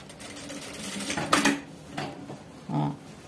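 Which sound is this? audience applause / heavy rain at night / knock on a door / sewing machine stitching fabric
sewing machine stitching fabric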